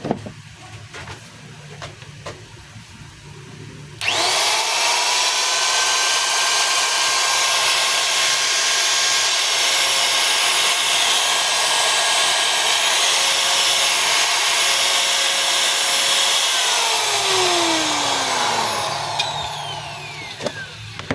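A DeWalt DW810 4-inch angle grinder with a worn armature carbon brush is tested during repair. It starts abruptly into a loud, steady high-pitched motor whine, runs for many seconds, then winds down with a falling tone.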